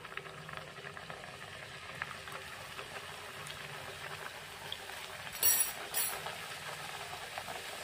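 Masala papad fries in hot oil with a steady, close bubbling hiss throughout and a brief louder crackle near the end.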